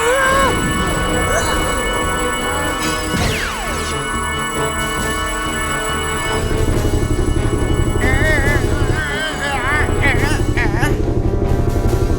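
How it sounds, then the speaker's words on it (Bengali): A cartoonish helicopter whirs and chops loudly with sliding whistles and electronic warbles, the engine sputtering into a rhythmic pulsing drone. "হেলিকপ্টারের সব পাওয়ার শেষ হয়ে গেছে"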